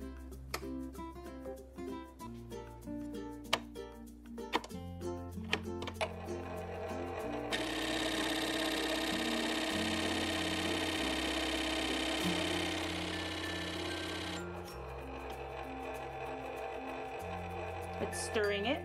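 A Tespo vitamin machine stirs and mixes a formulation, giving a steady mechanical whirring that rises in the middle of the stretch for several seconds and then drops away, with a rhythmic backing like music throughout.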